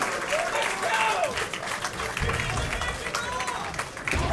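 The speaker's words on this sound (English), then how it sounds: "Crowd going nuts for this right now." A crowd at a Super Street Fighter IV Arcade Edition tournament cheers and applauds continuously in a dense, loud roar, with commentators talking over the noise.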